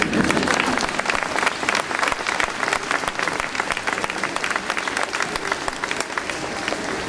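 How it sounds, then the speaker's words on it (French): Sustained, dense applause from an audience at a French lycée in Bogotá, loud and even throughout, with many hands clapping at once and no gaps. "vous pouvez applaudir,"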